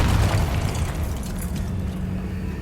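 A Confringo blasting spell goes off in Hogwarts Legacy, a loud low booming rumble that rolls and slowly decays across the whole moment, with a few faint crackles above it and no voices.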